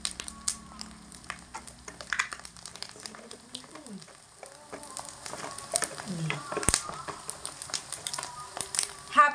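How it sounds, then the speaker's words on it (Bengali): Cumin and red chili powder frying in a hot pan as fish roe cooks, with a light sizzle and scraping stirs throughout, fairly quiet and close, occasional clinks of the spoon and a voice speaking faintly at times. "লাল লঙ্কা গুঁড়ো আর জিরের গুঁড়ো দিয়ে আবারও মোটামুটি 1 মিনিট মতো নাড়াচাড়া করে নেব"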